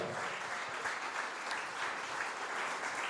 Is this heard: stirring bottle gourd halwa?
no